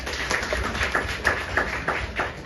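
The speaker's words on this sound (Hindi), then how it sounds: "तो इनके लिए भी तालियां" Scattered clapping at a women's forum event in Kanpur, a small group giving irregular, fairly close hand claps at a modest level.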